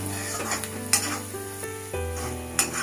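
Ground lentils frying in a pan, a bright continuous sizzle with a low hum beneath and occasional scraping knocks as a spoon stirs, heard close and alone.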